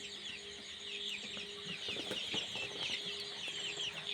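Chickens cluck softly and continuously in the background, a faint steady chatter of several birds with no talking.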